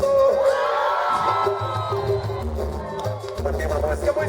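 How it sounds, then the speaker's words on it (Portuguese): A crowd of São Paulo Tricolor fans shouts and cheers at a live popular-music show, a loud, sustained mass of voices with whoops and yells swelling throughout. "Eu quero ouvir o grito da torcida do Tricolor."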